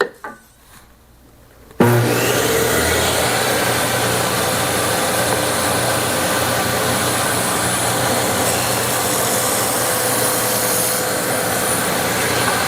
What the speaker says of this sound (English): Now I can do the next cut.